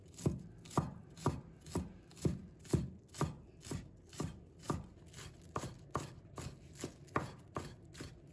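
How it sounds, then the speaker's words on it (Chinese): A knife chops a bunch of green onions on a board in a steady, even rhythm of about fifteen crisp thuds, close up and with no one speaking. "接下来我们准备一把小葱，"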